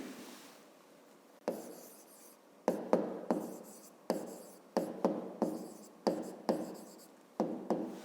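A pen writes on paper in short, separate bursts of scratching strokes, close and fairly quiet, with brief pauses between strokes while naming line segments in a fifth-grade maths exercise.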